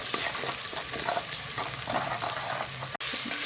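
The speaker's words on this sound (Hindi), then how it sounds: "ताकि हमारा अदरक लहसुन और सब्ज़ मिर्च अच्छे से फ्राई हो जाए।" Ginger, garlic and green chillies fry in a pan for sarson ka saag. A steady, loud sizzle is broken by scraping stirs and ends with a sharp click, with no talking.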